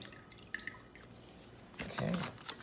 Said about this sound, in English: So got the water, just going to get rid of it over here.